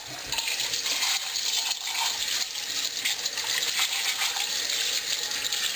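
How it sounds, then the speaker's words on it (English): Tap water runs steadily over rinsed parts of an Omega 8003 juicer, a continuous close splashing gush with no talk. "And I just rinse it off."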